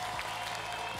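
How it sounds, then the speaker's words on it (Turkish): Studio audience applauding on a Turkish television game show, a steady wash of clapping throughout at moderate level, with no voices over it. "Seyircimize bu alkış."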